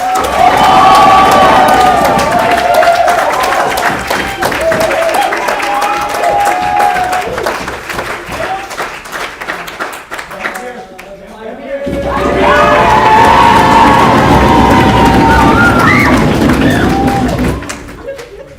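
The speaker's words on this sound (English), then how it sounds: "can I get like the thunderous, like obnoxious round of applause for Remy and Max Surprise, Kyle Moon?" A crowd at a feature film reading erupts in loud applause, whoops and cheers, with stamping thumps, dipping briefly into quieter clapping before surging again into a second raucous wave that then cuts off.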